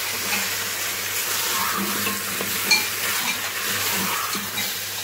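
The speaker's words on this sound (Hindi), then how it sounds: "देखिए 5 से 7 मिनट भूनना है, हमारे चिकन का कलर हो जाए चेंज" Chicken and potato pieces sizzle steadily in a hot pan while being stirred and turned, with occasional soft scrapes and clinks of the utensil against the pan, close and continuous with no talking.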